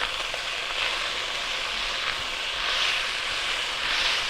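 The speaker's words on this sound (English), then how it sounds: "Now without all that moisture, it'll brown off as opposed to just simmering and turning gray." Beef browns in a soup pot for a vegetable soup, giving a steady, close frying sizzle with crackly hiss throughout and no voices.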